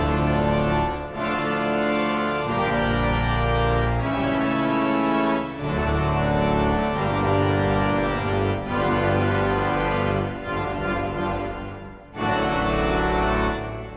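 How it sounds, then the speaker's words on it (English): Full, dense chords on the Royal Albert Hall pipe organ's default sound, loud and sustained, with deep bass. The chords change every few seconds with brief dips between them, and there are no voices. "I feel like this is the sound of an organ that most people will recognize."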